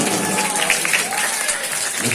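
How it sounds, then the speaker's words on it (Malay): Audience applause at a student's Islamic boarding school speech event, a steady wash of clapping from a crowd sustained for a couple of seconds without pause. "Beri aplaus penonton"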